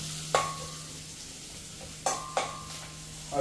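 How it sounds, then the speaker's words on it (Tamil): Onions being sautéed in a pan give a soft, steady sizzle, broken by three distinct metallic scrapes and clinks of a spoon stirring against the pan. "இப்போ வெங்காயம் வந்து இன்னும் ஒரு கொஞ்சம் மதங்கி கொண்டு வரோம்"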